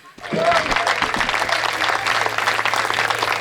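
Audience applause fills a Hindi comic poetry gathering, a dense sustained clapping from a large crowd that rises quickly and holds steady, with a brief voice near the start.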